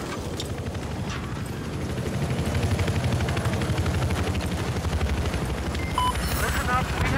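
Helicopter rotors in Battlefield 4 on the Operation Locker map, a dense continuous chop and whir beneath heavy gunfire and explosions, growing louder partway through, with voices talking over the battle.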